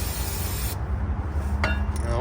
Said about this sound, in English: So we're going to go ahead and spray that boy down.